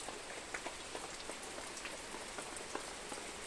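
Heavy rain falls steadily on outdoor surfaces, a dense continuous hiss broken by scattered sharper drip impacts, with no voices.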